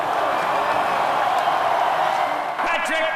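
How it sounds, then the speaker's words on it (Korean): Chicago Blackhawks hockey fans cheer loudly in an arena as players are named, a continuous roar of crowd noise that dips briefly near the end. "블랙호크스 선수들의 이름이 하나씩 호명될 때마다 팬들은 큰 함성으로 환호합니다."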